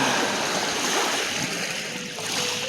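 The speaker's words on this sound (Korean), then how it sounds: "파도 소리도 듣고 파도 치는 거 구경하고" Sea waves wash onto a shore on a windy winter beach, a steady broad surf roar with light wind noise, moderately distant and alone.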